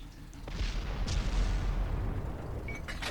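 A tank gun in World of Tanks, fired from a Hellcat American tank destroyer, booms in a long-range shot with a deep rumbling blast and lingering low roar, followed by faint later cracks.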